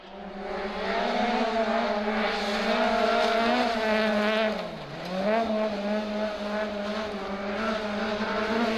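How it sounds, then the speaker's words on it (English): Vauxhall Corsa rally car racing through a forest stage, its engine note loud and sustained with rising and falling revs, briefly dipping midway before climbing again, with no talk over it. "the Corsa's engine note echoing through the forests."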